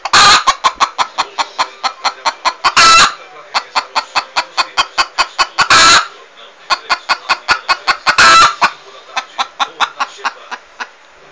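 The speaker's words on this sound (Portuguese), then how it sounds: "Esta galinha tá doidona." A hen clucks in rapid rhythmic bursts, with several louder squawks breaking through, close and loud throughout.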